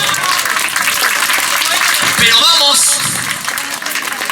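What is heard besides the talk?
audience applause at concert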